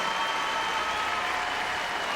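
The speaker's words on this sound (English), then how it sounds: "him a big round of applause." An arena audience at Crufts 2013 applauds a freestyle heelwork to music dog routine, a short burst of dense, steady clapping from a large crowd.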